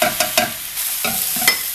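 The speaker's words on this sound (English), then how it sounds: "I've been frying this about about 15 minutes." Zucchini sizzles as it is stir-fried in a pan for a spicy Korean side dish. A utensil scrapes and stirs in quick, irregular strokes over a steady frying hiss, close up with no talking.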